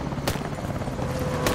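A military helicopter in the video game Advanced Warfare, during an escape from the Atlas prison camp: a steady, dense rotor rumble with a couple of sharp bursts breaking through.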